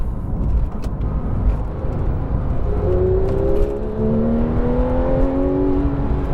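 A Porsche 911 991.2 GT3 engine revs up in manual mode from inside the car, rising tones climbing through the gears over a constant road rumble, loud and close.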